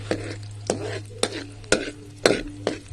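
Onion sautéing in a pan for mixed vegetables with pork cubes, sharp rhythmic spatula scrapes striking about twice a second over a continuous close sizzle.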